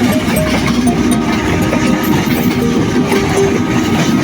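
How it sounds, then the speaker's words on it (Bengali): A train rolling across the Paksey bridge near Bheramara, a loud continuous rumble with the steady clatter of wheels on rails, close by and constant throughout. "আপনারা দেখছেন এই যে ট্রেন"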